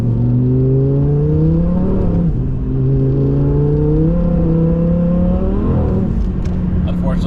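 Audi R8 engine revving at roughly a third throttle, its steady rising tone climbing, dipping briefly and climbing again, loud and close throughout.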